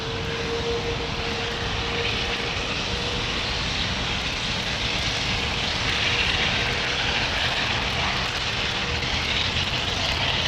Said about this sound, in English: Lovely old United 777-200 with Pratt & Whitney's just rolling up to the runway's edge.